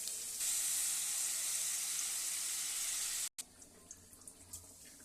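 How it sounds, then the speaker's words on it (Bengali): Spiced masala sizzling loudly in a pan as broth is poured in for a light potato, pointed gourd and prawn curry, a steady bright hiss that cuts off abruptly, then quieter bubbling with small pops. "এই মশলাটা কষে গেছে, এর মধ্যে একটু ঝোল দিয়ে দিই।"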